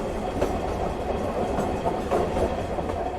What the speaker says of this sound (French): Il y a le bruit, même si maintenant, avec les soudures sur les rails, on n'a plus tout à fait le tatak-tatoum